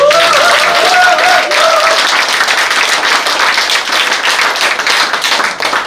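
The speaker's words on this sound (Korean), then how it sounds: "박수 한번" An audience claps at a political party meeting during a local chapter visit by a People Power Party leadership candidate in Gimcheon, South Korea. The applause is loud, dense and sustained throughout, with a brief voice or tone heard early on.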